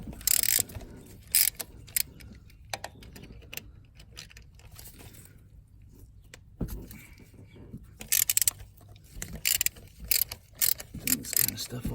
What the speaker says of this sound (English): what I did was I grabbed a 13 millimeter wrench or socket,